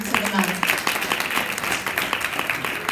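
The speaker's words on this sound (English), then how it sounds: "another big round of applause for our students of the month" Steady applause from a crowd at a PTA meeting, dense clapping throughout with talk faintly mixed in underneath.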